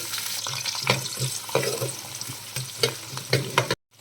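Onions frying in oil crackle steadily as a utensil stirs and clinks against the pan, ending abruptly.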